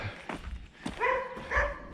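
A dog barks a few times on a woodland walk in the Burley inclosures of the New Forest, with short, fairly close yelps and barks that rise and fall in pitch.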